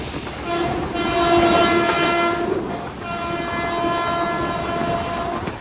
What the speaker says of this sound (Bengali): আমাদের গাড়ি এখন ফুল হংকিং দিয়ে বর্ধমান জংশন স্কিপ করছে